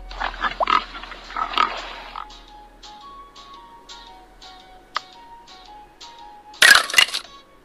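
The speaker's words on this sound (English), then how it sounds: "Pig." Pig oinks and grunts in a few short bursts at the start, followed by quiet ticking and clicking from toy puzzle pieces and a loud rattling clatter near the end.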